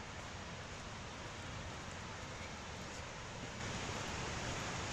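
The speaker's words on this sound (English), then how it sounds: "Waterfall at the end here." Steady rushing wash of water from a woodland waterfall near Humford Mill, constant broadband hiss with no pauses, fairly faint and heard alone.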